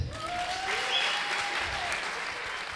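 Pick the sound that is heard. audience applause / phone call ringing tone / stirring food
audience applause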